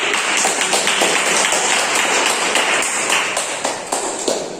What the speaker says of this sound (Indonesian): beri aplaus kepada Mas Andi